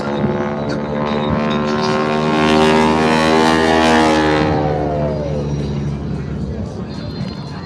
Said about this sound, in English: The propeller tips are going supersonic